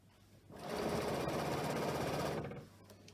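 Sewing machine stitching around scrunchie fabric, a steady close, loud mechanical whir that starts up abruptly, runs continuously for about two seconds, then stops.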